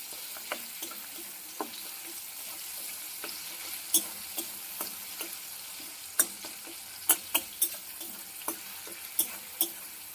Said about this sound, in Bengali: গ্যাসটা কমিয়ে টমেটোটাকে আগে নরম করে নেবো